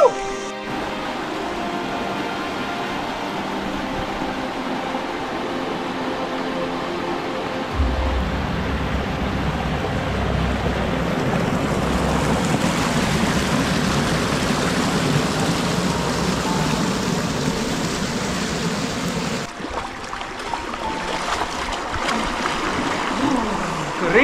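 River water flowing at a crossing of the Castor river, a steady broadband rush that swells after the first few seconds and continues with no talk.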